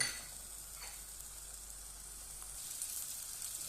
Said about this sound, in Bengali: তো আলুটা আগে কষাই নেব, পরে শাকটা দিয়ে নেব।